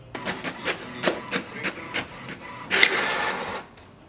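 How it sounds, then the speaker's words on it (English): HP Smart Tank 670 printer printing an information page: a series of rhythmic mechanical clicks and clunks, then a louder whirring feed sound before it stops, close and clear without talk. "hit the information button once and wait for the printer to print a page"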